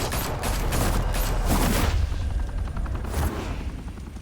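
A loud, sustained volley of gunfire in Batman: The Telltale Series, with several shooters firing dense, overlapping rounds that continue steadily and then thin out near the end.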